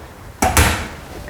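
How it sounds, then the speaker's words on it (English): A kitchen oven door shuts during Bakewell tart baking, a short hollow clunk followed by a second heavier thud and a fading rattle, close by with no talk. "Just close my oven door"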